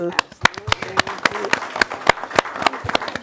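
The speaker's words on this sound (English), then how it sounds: "Give yourselves a round of applause." A crowd applauds with loud, sharp claps over a noisy hall, and a voice speaks over the clapping.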